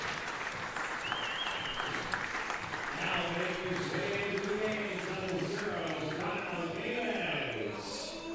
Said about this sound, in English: And he will exit to applause here.